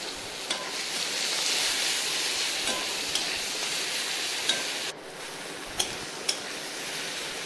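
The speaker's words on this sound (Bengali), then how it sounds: "আর যে পেঁয়াজ কুচি টমেটো কুচি আর রসুন রসুন কুচিটা ছিল সেটাকে আমি এখন দিয়ে ভালো করে ভেজে নেব" Chopped onion, tomato and garlic frying with spices after a cinnamon tempering, a soft, even sizzle under repeated scraping and clinking of a spatula against the pan, fairly quiet.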